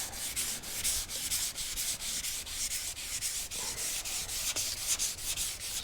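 Hand sanding on a dented car body panel with 320 grit paper, moving toward 600 grit: steady, rhythmic back-and-forth scratchy strokes, close and even, with no talk.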